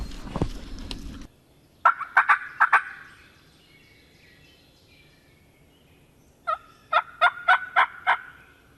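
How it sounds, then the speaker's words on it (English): Wild turkey gobbler gobbling in the woods while closing in on a hunter, two rattling bursts of rapid gobbles a few seconds apart, fairly distant but clear against quiet surroundings. "in no time the gobbler was closing the distance."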